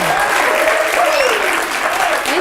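Steady, loud audience applause at a live show in San Diego, continuous throughout with a voice speaking over the clapping.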